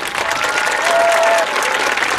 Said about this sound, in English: Can we give the administration at both schools a big round of